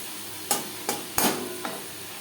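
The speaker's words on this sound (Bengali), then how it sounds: "লবণ হলুদ বেশ ভালো করে মিক্স করে দেবো।" Four wet, squelching strokes sound up close as raw chala fish is mixed by hand with salt and turmeric, each stroke a brief, soft swish against a quiet background.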